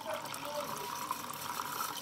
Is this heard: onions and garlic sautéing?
no